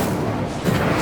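A single Incendio fire spell cast in Hogwarts Legacy, heard as a brief, loud booming whoosh with a low rumble, carried over continuous game noise.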